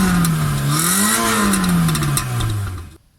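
A 2005 Suzuki Baleno JXR sedan's engine revs through the exhaust, its steady drone rising and falling in pitch before cutting off abruptly near the end.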